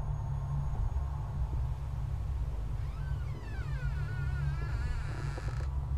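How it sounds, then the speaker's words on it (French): A door creaks open in a psychological horror video game, with a slow, wavering groan rising and falling over a constant low hum and steady background ambience. "c'est elle qui a ouvert la porte"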